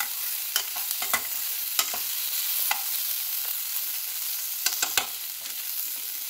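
Onion, garlic and ginger frying in sandwich-bottom cookware: a steady close sizzle with intermittent scraping and stirring clacks of a spoon against the pan.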